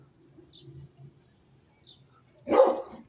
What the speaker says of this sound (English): I know the dog barking.